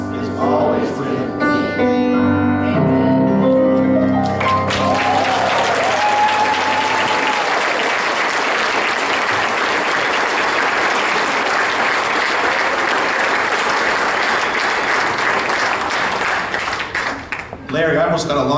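A church congregation applauds after a children's sermon, sustained dense clapping filling the room for over ten seconds after some sung or spoken sounds at the start, then fading.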